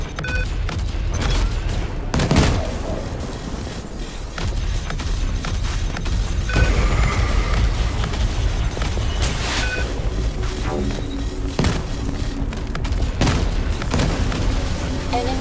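Spaceship explosions in a video game: a dense, loud barrage of booms and blasts, with several heavy detonations standing out from a constant rumbling roar.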